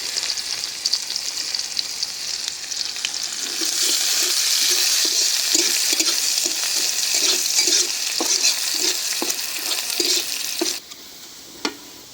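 Onions frying in oil in a pan, a steady close sizzle that grows louder midway while a spatula stirs in a regular rhythm, then cuts down near the end, with no voices.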